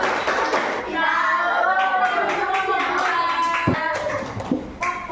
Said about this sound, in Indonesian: Kita beri tepuk tangan untuk kelompok 2. Tepuk tangan.